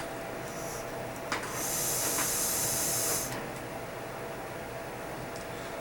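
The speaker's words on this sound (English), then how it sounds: "I'm actually vaping it right now in this Veritas" An e-juice vape drawn through a Veritas device gives a bright airy hiss for about two seconds, with faint clicks before and after, over a low background room noise.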